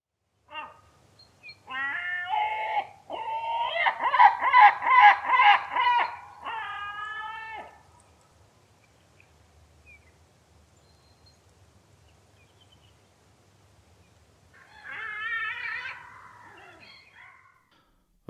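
Black-backed gull calls in two bouts on an Orkney shoreline, a run of loud, harmonic, rhythmic yelping notes followed after a quiet gap by a shorter burst of calls, with no talk.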